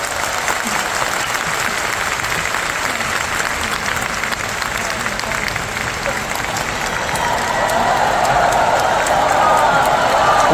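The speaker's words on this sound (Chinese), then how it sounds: "我哋大家俾啲掌声两位" A large audience at a Cantopop concert in Hong Kong claps in a dense, sustained wave of applause that swells slightly toward the end, with scattered cheers mixed in.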